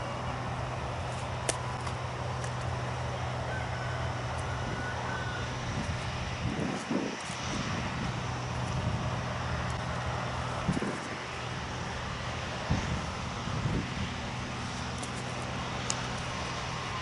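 A tractor engine drones at a steady low pitch on an allotment, a faint, continuous rumble carried across the plot, with a few brief mechanical knocks and bumps rising over it.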